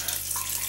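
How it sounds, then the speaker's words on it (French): Hot water tap open and running steadily into a sink, a continuous close hiss of flowing water with no pauses. "quand vous ouvrez votre robinet d'eau chaude"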